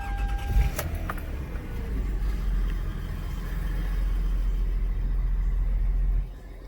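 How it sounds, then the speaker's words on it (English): 2005 Toyota Highlander 3.3 V6 cold start: a short starter whir and catch, then a steady low idle rumble that continues evenly before cutting off near the end, no talking. "we'll do a little cold start here"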